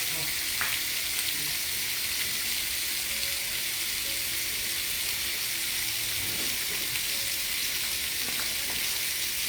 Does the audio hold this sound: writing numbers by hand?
no